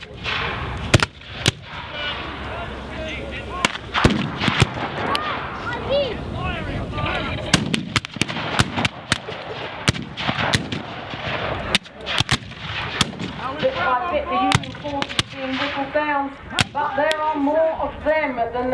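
Civil War reenactment muskets fire in a battle, with sharp cracks going off irregularly, singly and in quick clusters, some near and some farther off, over a murmur of voices.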